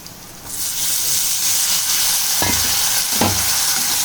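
Tomatoes frying in hot oil with garlic and ginger for a prawn curry, a steady loud sizzle with two sharp scraping stirs of a spatula near the end, no talk.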